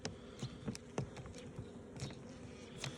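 Honeybees buzzing inside a hive of a strong colony, a soft, dense hum with individual bees droning close past at irregular moments, faint and steady with no talking.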